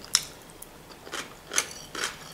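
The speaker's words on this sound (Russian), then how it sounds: "Такой хрустящий лучок." Crunchy onion crackles between the teeth during a meal of pasta with sausages and vegetable salad: four crisp, close bites spaced about half a second apart, with quiet pauses between.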